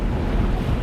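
Strong wind of about 28 knots batters a sailboat with brown water around it, a dense roar of gusts and waves with heavy wind buffeting on the microphone and no voices.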